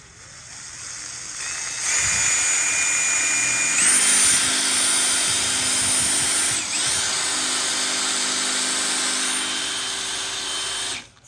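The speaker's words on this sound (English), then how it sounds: "Now we've got to drill the holes through it and bolt it together." An electric drill bores holes through a homemade chisel clamped in a vice, running as a loud steady whine for most of the stretch, with its pitch shifting slightly as it bites before cutting off at the end.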